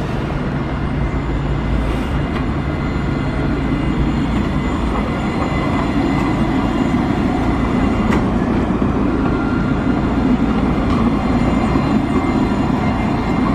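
On the Angers tram line, a tram rumbles past in a continuous low, steady roar, broad and moderately loud without clear breaks, with no voices.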